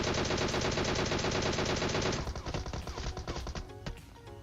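Rapid bursts of automatic gunfire from PUBG Mobile, loud and dense, as an enemy is knocked down and finished; the steady firing gives way to scattered, separate shots near the end.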